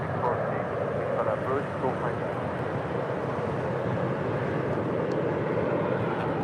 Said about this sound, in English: Coming in from Boston, that is American Airlines Flight 2455 on the A321